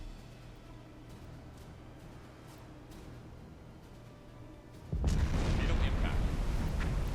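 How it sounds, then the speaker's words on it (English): A torpedo hit in the submarine game Silent Hunter 4 bursts into a loud, rumbling explosion after a quiet stretch of low ambient noise, and the roar sustains to the end. "I'm going to do my best not to miss any of the extra spectacular explosions."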